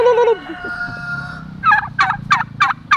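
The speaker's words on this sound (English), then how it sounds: "Look at that gobbler. You're gonna puff up? What's that sound you made?" A turkey gobbler gobbles in a burst of rapid, warbling calls, close and loud, following a higher drawn-out fowl cry, with no talking.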